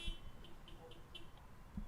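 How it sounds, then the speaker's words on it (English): A car alarm going off outside, heard as faint, distant high beeps repeating quickly and evenly in a quiet room. "There's a car alarm going off."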